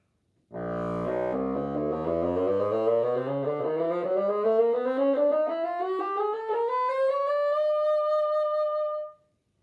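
A solo bassoon glides steadily upward from deep, buzzy low notes to thin high tones in one continuous sweep, sustained and alone.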